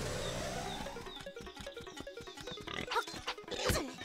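Pig enemies oinking in Zelda: Link's Awakening on Switch, a run of short grunting snorts amid game music and effects, near and fairly loud, ending with a louder squeal-like burst.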